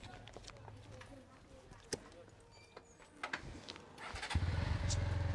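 A shiny new motorcycle starts up after some footsteps and knocks, its engine catching into a loud, steady idle rumble near the end, with voices faintly in the background.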